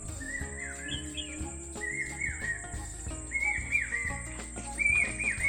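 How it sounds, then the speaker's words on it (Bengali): Bird calls ring out in a sal forest in Bankura, with repeated rising whistled phrases arriving every second or so over softer chirps and background bird chatter, fairly clear and without talk. "কি সুন্দর কোকিলের আওয়াজ।"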